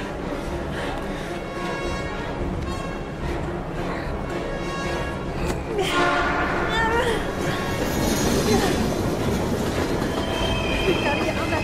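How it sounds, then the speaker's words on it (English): A train rolls past in the video game Heavy Rain, a loud continuous rumble with squealing wheels and clattering cars that swells in the second half, with voices speaking over it. "We gotta get on that train, Ethan."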